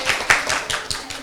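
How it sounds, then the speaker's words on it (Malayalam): A group of people at an Onam gathering clapping, several loose, uneven claps close by with a short burst of louder ones. "എല്ലാരും ഒന്ന് കൈയടിച്ചു കൊടുക്കില്ലേ?"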